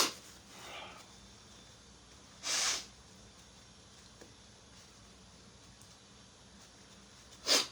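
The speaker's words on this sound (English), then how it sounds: "Let me blow my nose." A person blows their nose in two short, breathy bursts, close and fairly loud against a quiet background.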